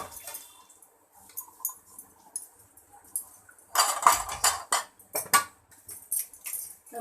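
Dishes and pots are washed at a kitchen sink in the morning, with metal utensils clinking and clattering in irregular bursts over running water, close and fairly loud.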